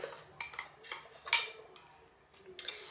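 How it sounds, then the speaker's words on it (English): A utensil clinks and scrapes in a dish while hot sauce and ranch cream cheese topping are mixed, giving several light, irregular taps close by with quiet gaps between them. "And I'm just gonna mix that all up."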